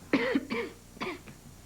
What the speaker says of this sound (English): That sounds like a nasty cough.